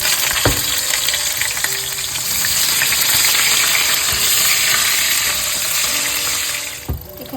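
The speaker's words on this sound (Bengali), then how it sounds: "এখানে প্রায় পেঁয়াজটা লাল লাল করে একটু ভেজে নিয়েছি।" Chopped onion sizzles steadily in a hot pan with cumin for a chicken dish, a constant close frying hiss with a couple of sharp utensil knocks near the start and end.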